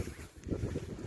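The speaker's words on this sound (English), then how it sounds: "Sorry about the wind" Low rumbling wind buffets the microphone in short gusts on a grassy mining trail, faint and muffled, with no voices.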